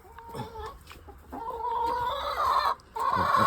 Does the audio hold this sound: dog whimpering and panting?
no